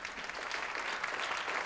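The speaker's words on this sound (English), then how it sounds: "So a big round of applause for them." Steady applause from an audience at a Boys & Girls Club dinner, dense and continuous clapping that holds evenly throughout with no pauses and no voices over it.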